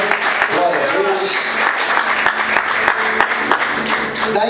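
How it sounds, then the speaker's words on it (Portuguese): A church congregation applauds in a continuous burst of clapping, loud and close, with voices speaking and calling out over the applause. "Aplauda Jesus."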